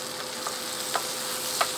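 Tofu sisig sizzles on a hot plate with a steady, close broadband crackle, broken by a few faint stirring clinks.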